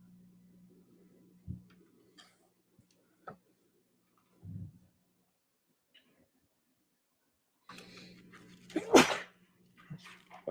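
Several soft sneezes in a quiet courtroom, short isolated bursts spread across the stretch, with a louder, fuller sneeze near the end and otherwise near silence apart from faint room noise.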